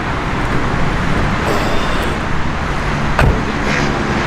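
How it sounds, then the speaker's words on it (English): Cabin of a 2020 Nissan GT-R Nismo on the move, filled with loud, steady road and mechanical noise, a broad rumble with a brief knock partway through and no one speaking. "it's raw, and you can hear a lot of the mechanics of the car"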